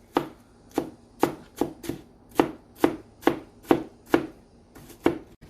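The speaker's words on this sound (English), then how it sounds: "Chop it into small tiny pieces so it can mix into the egg roll." Knife chopping vegetables into tiny pieces on a cutting board for Lao egg rolls, a dozen or so sharp, regular thuds roughly every half second, close and crisp with no talking over them.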